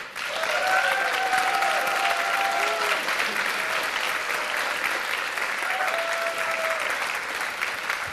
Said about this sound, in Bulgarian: Искам да чуя бурните овации за шампиона на втори сезон.